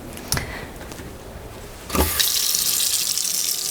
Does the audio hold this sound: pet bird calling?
no